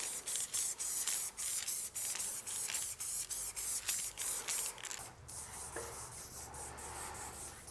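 Spray paint hisses from an aerosol can in short, regular bursts while a mural background is painted on a wall in an abandoned factory, then gives way to a quieter, softer spray.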